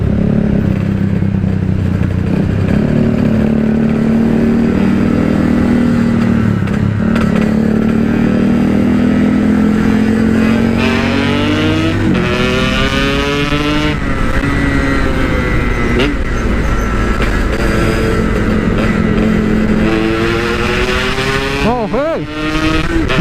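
A Yamaha RX King two-stroke motorcycle revving hard and riding fast, its engine note rising and falling through gear changes, loud and close, with people talking over it at times.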